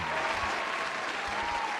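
Applause for a special guest on a sports talk show, a short, steady patter of clapping at even loudness throughout, with no speech over it.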